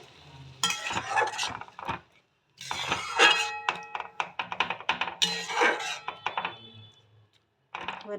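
Water goes into a pan of turnip and radish curry, bringing clattering, clinking bursts of stirring and utensil knocks against the pan, interrupted by short quiet gaps.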